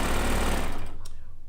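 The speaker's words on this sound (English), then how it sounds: "when you piece on one of these, a machine from a serger family" A serger-style sewing machine piecing fabric runs fast and loud up close, then slows to a rapid rhythmic chatter as it winds down.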